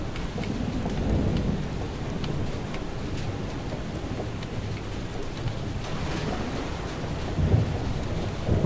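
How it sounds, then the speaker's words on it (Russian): Steady heavy rain with a low rumbling thunder bed throughout in a video game thunderstorm, dense and close, with no voices. "Мне кажется, только что молния еще раз ударила по нам."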